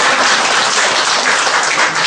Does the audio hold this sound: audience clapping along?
yes